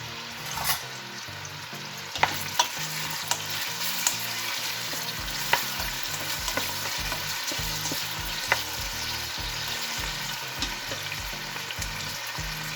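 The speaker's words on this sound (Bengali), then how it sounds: "আমি একটু পেঁয়াজটা একটু হালকা বাদামি করে ভেজে নেব। আমি চুলাটা হাই করে দিলাম।" Onions frying in oil on high heat for goat korma, a loud continuous sizzle with repeated scraping stirs of a spatula at a steady pace, close and without talk.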